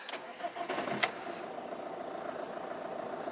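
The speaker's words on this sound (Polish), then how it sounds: "Uwaga, zapłon start." A high-mileage Ford diesel with about half a million kilometres cranks briefly and catches, then settles into a steady, fairly quiet idle recorded close by outdoors.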